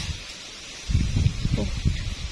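Strong wind blows through a rice field, a rushing, rustling gust that builds after a quiet start and stays loud and close to the end.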